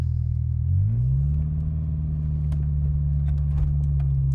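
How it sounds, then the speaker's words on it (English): A 1988 Peugeot 205 GTi 1.9L engine with an exhaust leak rumbles steadily at idle with a low, throaty drone and a slight rise in pitch, plus faint ticks and clicks above it. "A little bit more exhaust, so there's clearly an exhaust leak."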